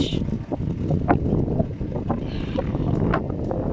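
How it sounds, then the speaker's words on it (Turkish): Strong wind buffets the microphone with a constant rough roar, punctuated by brief louder gusts and faint clatter. "Bayağı fırtına var bugün."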